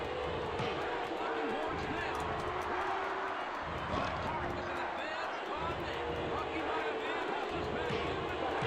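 Video game wrestling crowd cheering for Bret Hart in a retro wrestling game, a dense, steady roar of synthesized crowd noise running throughout with scattered louder swells and a person talking over it.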